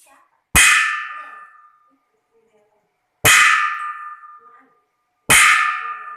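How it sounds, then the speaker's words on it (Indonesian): A spoon strikes a long iron rod three times, giving loud metallic clangs, each ringing out with a bright, sustained tone that slowly fades before the next strike; no talking. "ibu akan memberikan sebuah pukulan terhadap besi ini"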